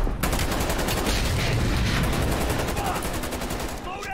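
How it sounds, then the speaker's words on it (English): Rapid gunfire from the Call of Duty Black Ops Cold War campaign, a dense, loud burst of automatic shots sustained across the whole moment with only a slight tail-off at the end. "I didn't even mean to shoot that."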